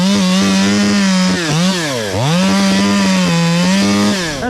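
Chainsaw fitted with a Panther bar cutting into a hickory log, loud and close, the engine droning steadily and dipping in pitch as the chain bogs into the wood, then revving back up.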